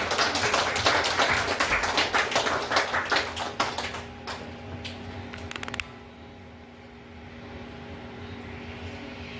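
Church congregation applauding as a guest is welcomed to give a testimony after Bible study: dense clapping for about four seconds, thinning to a few scattered claps and fading to room hum.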